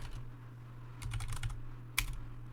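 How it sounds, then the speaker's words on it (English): Quick bursts of keystrokes on a computer keyboard entering a terminal command, a cluster of clicks ending in one sharp key press, close and clear over a steady low hum, no talking. "Type the command system control"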